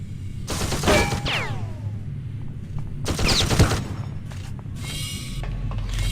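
Rapid bursts of gunfire hit a turret with armor-piercing rounds in System Shock 2, two or three loud clusters of shots with metallic ricochet whines, separated by brief lulls over a steady low mechanical hum.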